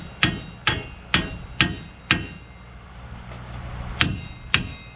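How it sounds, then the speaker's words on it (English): A small hammer strikes metal while knocking a ball joint loose on a 2007–2013 Silverado or Sierra truck: sharp, ringing clanks, five in quick succession, a pause, then two more, close and loud. "So we'll try it with our little hammer first."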